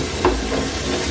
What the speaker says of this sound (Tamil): இப்போ ஒரு ஸ்பூன் எண்ணெய் விட்டு சுண்டக்காய் வத்தல் வந்து